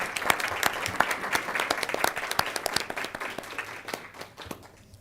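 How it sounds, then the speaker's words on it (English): Audience applause at a school board meeting for students on unified teams, a fairly close crowd of clapping hands, steady and dense before tapering off toward the end. "But please take this moment to give them a round of applause for this incredible program."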